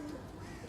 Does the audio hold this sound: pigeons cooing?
yes